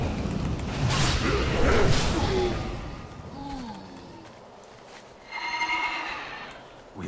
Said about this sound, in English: Is he gonna jump on the horse? No, apparently not. Garrison workhorse.